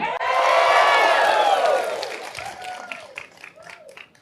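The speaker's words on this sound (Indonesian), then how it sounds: "Yang merasa performa Pak Anies semalam keren banget, boleh tepuk tangan." Audience applause and cheering from a crowd at a post-debate event for a presidential candidate, loud clapping that swells at once, holds, then thins out over a few seconds with scattered claps at the end.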